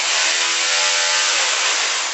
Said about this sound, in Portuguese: E agora no modo martelete.